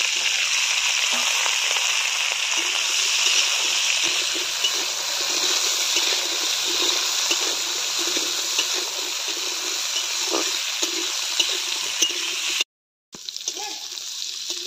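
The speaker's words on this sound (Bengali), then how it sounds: "এবার দিয়ে দেব গাজরটা।" Carrots frying in a pan, a loud, continuous hiss and sizzle close by that persists for over twelve seconds, then cuts out briefly before resuming.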